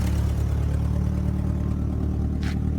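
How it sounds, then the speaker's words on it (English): A turbocharged car engine idles steadily up close, with a faint, rapid clacking ticking under its low drone, caused by an exhaust leak from a missing exhaust bolt at the turbo. "that annoying clacking noise, but that is coming from one of the exhaust bolts missing that goes to the turbo"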